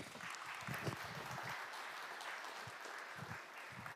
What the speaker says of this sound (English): Big applause for Marco